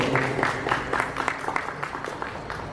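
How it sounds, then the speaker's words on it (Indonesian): Audience applauds at a betta fish forum event in Bogor, a dense burst of many hands clapping that gradually thins out as it fades. "Sekali lagi tepuk tangan buat Joti Atmajaya."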